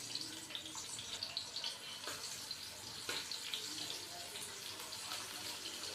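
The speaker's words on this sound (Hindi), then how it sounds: "तो यहाँ पे माशाल्लाह से ऑयल हमारा गर्म हो चुका है। अभी हम इसके अंदर प्याज डालेंगे।" Onions frying in hot oil in a pan for a pumpkin curry, a steady broadband hiss and crackle that holds evenly throughout with a few louder spits, no talking.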